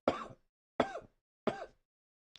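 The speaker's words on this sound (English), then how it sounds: "Oh, this cough." Three separate, close coughs with a throaty, rough edge come at even intervals, each followed by silence, with a faint short noise at the very end.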